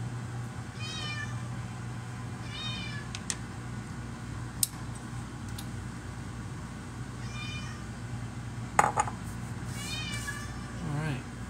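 A house cat meows several times, faint and somewhat distant, over a low steady hum in a kitchen during cooking, with a couple of small clicks between calls.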